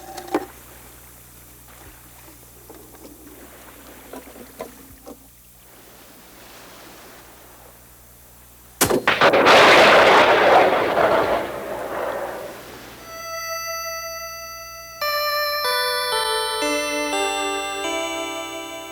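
A Joseon-era naval cannon is test fired, giving one sudden loud blast partway through. A long, roaring decay follows, and then music comes in.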